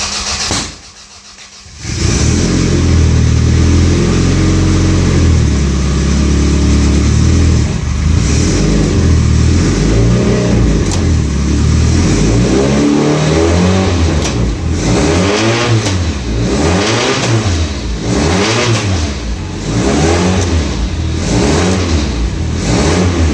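A Toyota Celica with a swapped 5SGTE engine cranks and fires, then idles loudly and is revved repeatedly in rising and falling sweeps, close to the engine and with no talking.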